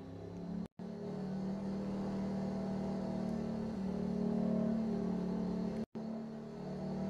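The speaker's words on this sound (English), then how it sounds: "Driving this bike. This thing is fun to drive actually." A motorbike engine from a farming video game mod drones steadily at a constant pitch, with two brief dropouts cutting the sound to silence.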